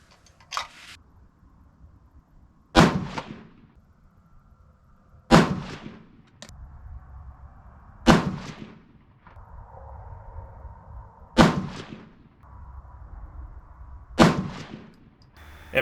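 Five 6.5 PRC rifle shots from a Seekins Precision Havak loaded with Reloader 25 powder: sharp, loud single reports spaced evenly a few seconds apart, each with a short decaying echo over a quiet background.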